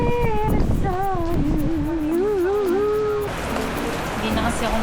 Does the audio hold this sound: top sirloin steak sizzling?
no